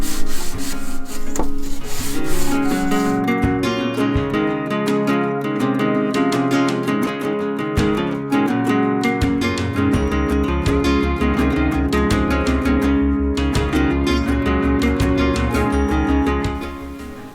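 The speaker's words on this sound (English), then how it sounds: "Sanding a block" Sandpaper rubbed by hand along the grain of a wooden block, a steady, close, continuous scraping that runs without pause, with music playing underneath.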